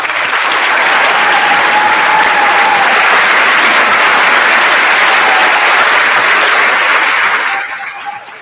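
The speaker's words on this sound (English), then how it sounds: "Please join me in a round of applause for Mr. Pepe, Ms. Lang, and Mr. Kennedy" Loud, sustained applause from a school audience fills a middle school grade 8 moving-up ceremony, steady dense clapping for several seconds before tapering off at the end.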